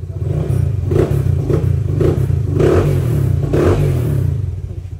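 A Honda Click 125 4-valve scooter fitted with Boom X mags idles steadily nearby, its low rhythmic engine throb rising in several short revs.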